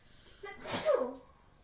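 A single sneeze bursts out during a casual board game unboxing, a sharp inhaled build-up followed by a loud, close explosive release lasting about a second.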